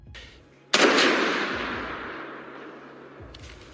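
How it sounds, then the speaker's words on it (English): A single loud gunshot cracks out in woods during a wild boar hunt, then its boom rolls and echoes away slowly, with quieter low thumps before and after. "Gunfire boomed through the woods, stirring up the hogs even more."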